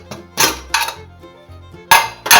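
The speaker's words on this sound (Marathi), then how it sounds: "आता आपण तो उघडून घेऊ." A cooled pressure cooker holding a brinjal vegetable dish is opened in a home kitchen, giving a few loud metallic clanks and scrapes of the lid in separate bursts with quieter rattles between them.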